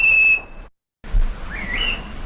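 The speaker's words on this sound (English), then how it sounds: "the melanic birds have this more complex double whistle note" A melanic island flycatcher gives a double whistle song: a clear, steady whistled note, a short silence, then a second wavering, rising whistle, heard fairly close over faint background noise.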